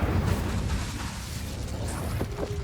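An Incendio fire spell goes off in Hogwarts Legacy, a loud whooshing burst of flame that starts with a heavy low boom and rumbles on for a couple of seconds.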